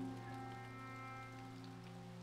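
Steady rain pours down in the video game Impostor Factory, a soft constant hiss over a low hum of game music, running evenly throughout without talk.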